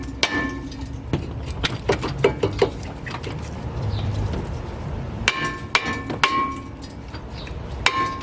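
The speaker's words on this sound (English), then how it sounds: "take a hammer and you're just gonna whack your rotor anywhere you want." Sharp metallic hammer strikes ring out on a brake rotor of a 2008-2012 Honda Accord, several clanging hits scattered irregularly with bright ringing overtones, close and loud in a garage setting.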